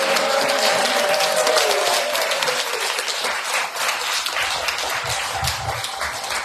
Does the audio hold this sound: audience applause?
yes